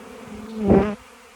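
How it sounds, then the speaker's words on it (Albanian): Honeybees crawling back into their hive give a close buzzing hum that swells loudly for a moment, then drops back to a faint drone. "gjithë këto pletë që kanë rënë të poshtë, do ngjiten avash avash dhe do futen brenda te kjo koshere"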